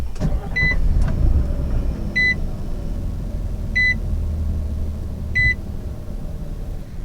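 Inside a 2022 Nissan Frontier Pro-4X, a push-button engine start brings a low rumbling idle, with a short series of four evenly spaced electronic chimes sounding over the steady engine hum.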